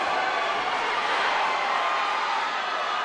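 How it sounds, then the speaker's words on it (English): A wrestling match crowd roars in a steady, dense wash of cheering that fills the whole stretch without pause. "You can hear the crowd. They're really getting into it."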